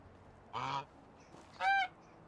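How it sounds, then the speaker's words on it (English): A goose honk triggered by jumping while wearing a mask in the game Medieval Dynasty: two short, nasal, bright honks about a second apart, loud and close over a quiet background. "Every time you jump, it makes a geese sound."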